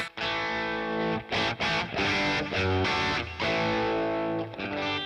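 A crunchy, distorted electric guitar plays chords and short riffs through a Boss Katana amp with some delay and reverb, loud and close, with brief pauses between phrases.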